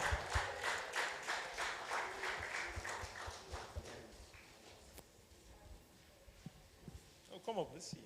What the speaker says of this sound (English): Please continue clapping for her as she comes up.